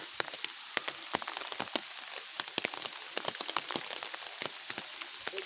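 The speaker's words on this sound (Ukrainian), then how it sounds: "Такий гарний ліс, тільки жалко, що дощик." Rain falls in a forest, with many distinct drops pattering close by on a surface, irregular and crisp, over a soft steady hiss of rainfall.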